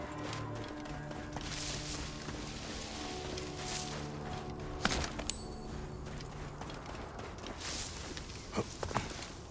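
Horse hooves clop in Assassin's Creed Origins as an injured mount moves about, a steady patter of steps under a continuous game music bed, with a few sharper knocks near the end.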